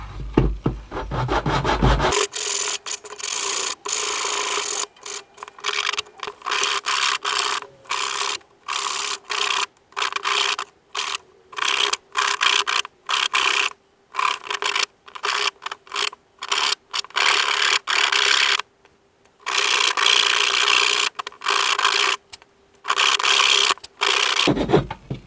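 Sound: sanding wood by hand with sandpaper

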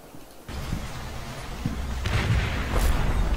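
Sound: mortar barrage explosions in Combat Mission Fortress Italy video game

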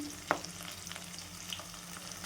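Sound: ginger garlic green chili paste frying in oil

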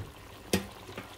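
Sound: hot water poured onto sauteed goat meat in pot

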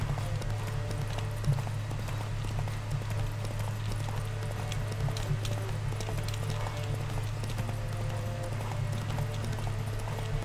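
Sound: horses galloping in a horse race in The Witcher 3 video game

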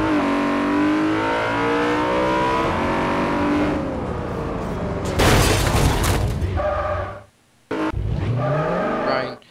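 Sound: stolen BMW car driving in video game Garry's Mod

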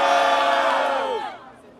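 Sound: crowd cheering at a rap battle

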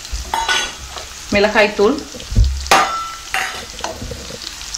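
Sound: gooseberries (amla) sautéing in oil on medium flame

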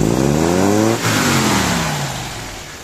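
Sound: car engine with Voltarent EFI accelerating

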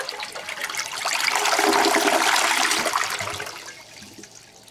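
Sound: toilet flushing Q-tips down

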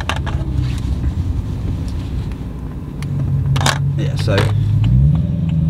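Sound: car engine revving with exhaust valves open

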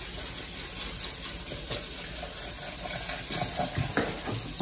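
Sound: milk being poured into a pot of potato soup

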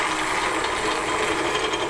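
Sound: motors of a model tank running

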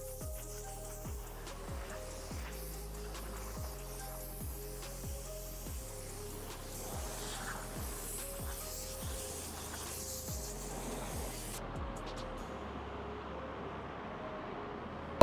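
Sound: compressed air blowing off car in paint booth

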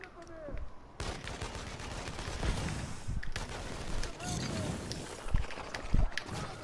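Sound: gunfire in the video game inFAMOUS Second Son

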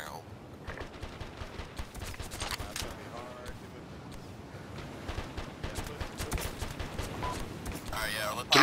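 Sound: gunfire in a firefight, from the video game ARMA 2

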